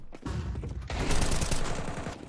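Tec-9 pistol firing in a video game, a rapid continuous burst of close, loud shots with a short pause before the volley resumes more densely.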